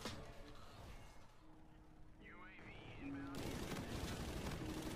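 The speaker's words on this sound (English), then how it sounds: "Here's a shotgun." A shotgun fires in a video game amid dense, loud gunfire and explosive blasts that grow heavier toward the end.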